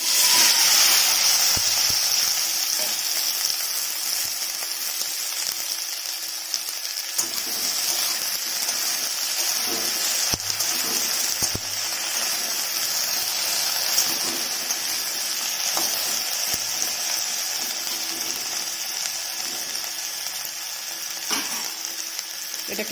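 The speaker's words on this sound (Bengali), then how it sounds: "এটাকে ভাজতে দিতে হবে" Okra fries in hot white oil seasoned with turmeric, giving a steady, loud sizzle and hiss that runs throughout. Faint stirring clinks come through now and then, with no talk.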